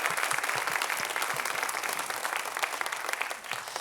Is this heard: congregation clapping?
yes